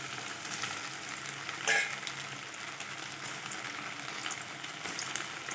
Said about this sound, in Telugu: మీడియం ఫ్లేమ్లో పెట్టుకొని వేయించుకోవాలి